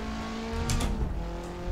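KTM X-Bow R race car on the Vallelunga circuit, engine accelerating gently with the throttle feathered, a steady close onboard drone with a brief surge in the middle.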